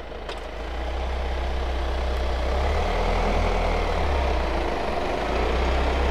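A 2024 Kia Sorento facelift, EU model, creeps forward under remote control from its key, giving a low steady engine hum that swells after the first second and stays even, with no talking.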